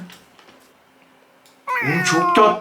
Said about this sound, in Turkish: Kedi sesi çıkarttı lan bu.